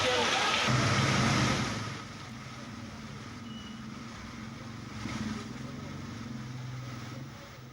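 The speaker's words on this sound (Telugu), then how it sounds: "కుండపోత వర్షంతో అతలాకుతలమవుతోంది." Torrential rain falls on Hyderabad city roads during a traffic jam. A broad hiss is loudest at the start, then eases into a steadier wash mixed with low vehicle rumble.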